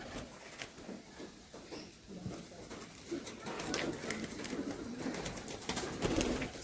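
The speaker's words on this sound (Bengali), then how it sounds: "দাদার বাড়ি খুবই সুন্দর সুন্দর পায়রা রয়েছে" Andhra pigeons kept by a fancier coo softly amid bird calls and light patter, a continuous low murmur close by with scattered sharper chirps, no talk.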